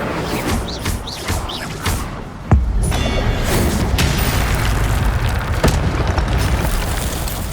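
An Incendio fire spell bursts with a heavy boom in Hogwarts Legacy, a sudden loud blast followed by a sustained roaring fire-like rush, with faint fluttering effects before it.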